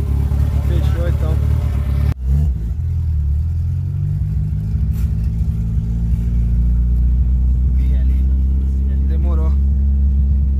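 A turbocharged 1991 VW Gol Quadrado GL engine drones steadily from inside the moving car, with a low rumble that builds as it accelerates after a brief drop, while people talk over it.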